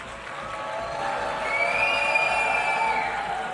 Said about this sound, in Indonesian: beberapa peserta di balkon memberikan tepuk tangan sambil berdiri